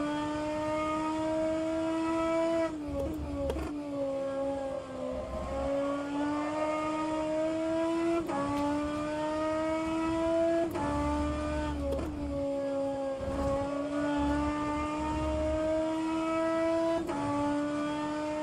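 A DTM race car engine in rFactor 2 revs loudly and steadily, climbing through each gear with sharp shifts every few seconds. The engine runs on without a break and no one talks.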